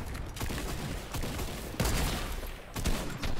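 Rapid bursts of gunfire from the video game Fortnite crackle densely and loudly throughout, with several heavier volleys, and no talk over them.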